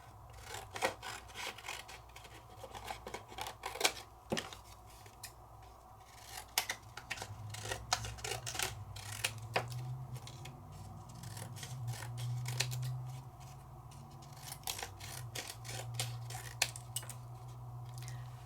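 Scissors snip through paper after die cutting and embossing with a Sizzix Big Shot, a run of crisp, close cuts in irregular rhythm over a low background hum.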